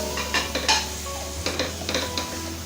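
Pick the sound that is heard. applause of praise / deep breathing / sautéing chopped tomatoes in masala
sautéing chopped tomatoes in masala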